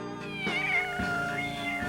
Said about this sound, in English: Is there a kitty under there?